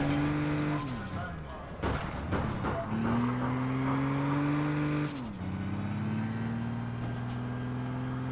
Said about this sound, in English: I heard a vehicle over here a second ago